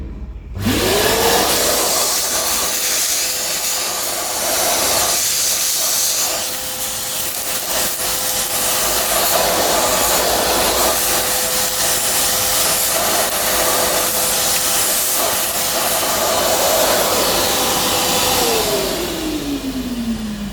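A vacuum cleaner sucks flaky muck out of the body of a 1938 SS Jaguar 3½ Litre drophead under restoration: a loud, steady motor whine that spins up, holds for about eighteen seconds amid rattling debris, then winds down.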